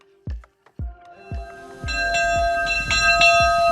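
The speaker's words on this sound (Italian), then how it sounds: "le campane che suone" Church bells in Grado, Italy, ring out, a few separate strikes at first, then overlapping peals that build into a sustained, resonant ringing.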